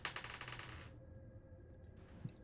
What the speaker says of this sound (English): that's a terrifying noise of a fucking DM's dice bouncing in the back there